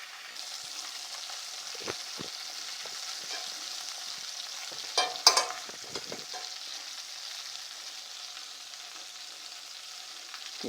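Pieces of Boston butt pork fry in a pan with a steady close sizzle, broken by a few louder crackles and spatters as the meat is flipped and moved around.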